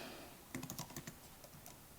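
Quiet, quick keystrokes tap on a computer keyboard, a short burst of clicks over a faint steady background hum.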